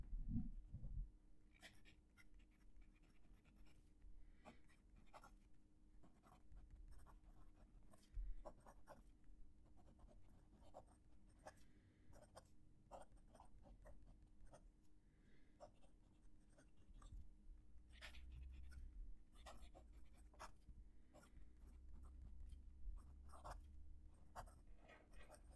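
A Wing Sung 698 fountain pen nib scratching on paper, close and quiet, with soft irregular strokes and short scrapes continuing throughout.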